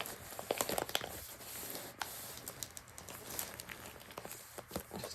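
Cardboard box being packed with small items for a swap, with soft crinkling and crumpling of packing material and items shifting in irregular bursts, fairly close and quiet, no talking.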